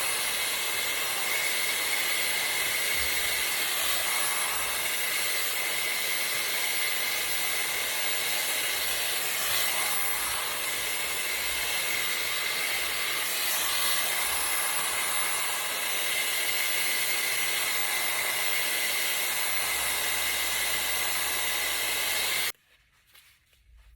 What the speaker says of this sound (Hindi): अभी हम जो इसका वॉल्यूमाइजिंग ब्रश है राउंड वाला वो यूज़ करते हैं.